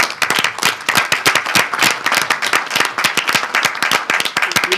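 Dense, steady clapping from a room full of people at a tax reform hearing, with many hands overlapping loudly and continuously throughout, and no talk over it.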